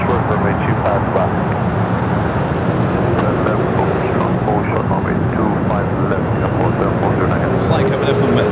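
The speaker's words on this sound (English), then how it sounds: "It's flight coming in from Dulles." A jet airliner rolling near a runway at Los Angeles International Airport, a loud, steady broadband engine roar that stays constant throughout with faint higher clicks on top, no clear talk.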